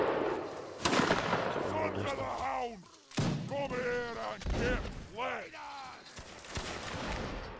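Musket volleys crack out in the Napoleonic Wars video game line battle, several loud broadband bursts spread across the moment, with voices calling out and talking over and between the shots.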